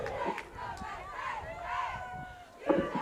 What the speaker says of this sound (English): Got a good crowd out here tonight.